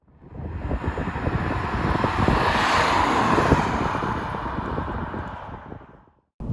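Road and wind roar from a 2025 VW Polo Black Edition on the move, a steady broad rush of tyre and engine noise that holds evenly for several seconds before dropping away.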